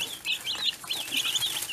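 Three newly hatched baby chicks peep in quick, high, repeated chirps close by, steady across the moment with no talk.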